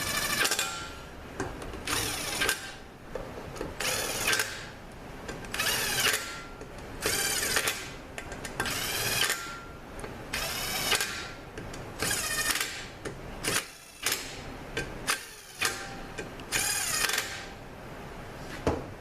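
Aluminum bolts on a Mercedes 722.9 transmission front pump are run down with a power tool, repeated short whirring bursts with brief pauses between them, close and fairly loud.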